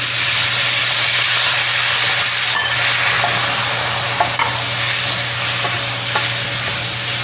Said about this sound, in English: Stir it around, put the lemon juice in